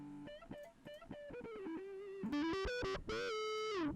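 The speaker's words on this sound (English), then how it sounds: "if you want to get that distortion sound, you have access to Destructor" A synth melody runs through heavy distortion from FL Studio's Destructor plugin, turning gritty and buzzing, with harsher, brighter crunch on the final held notes.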